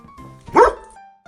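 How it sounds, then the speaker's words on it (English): A single loud corgi bark stands out sharply over a quiet, faintly tonal background. "he wagged his tail and gave a loud bark"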